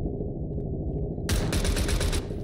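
Rapid automatic gunfire in a competitive shooter video game match, a loud sustained burst of shots over a steady low game soundtrack.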